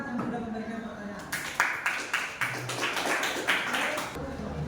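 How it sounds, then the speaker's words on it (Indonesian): Classroom applause from a group of students, a burst of dense, close clapping that rises after a short bit of speech and continues steadily for several seconds. "Kita tepuk tangan untuk kelompok kedua."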